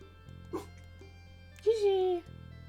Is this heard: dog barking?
yes